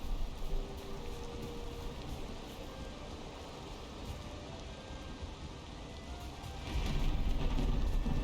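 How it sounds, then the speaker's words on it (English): A steady rainstorm in the video game Valheim hisses continuously with dense pattering rain, low rumbling undertones and a brief swell near the end, fairly quiet and with no talking. "Welcome to the rainstorm."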